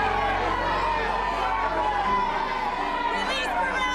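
A dense crowd clamors continuously in a dramatized Passion-of-Christ scene, a thick, steady wall of many raised voices filling the whole stretch without pause.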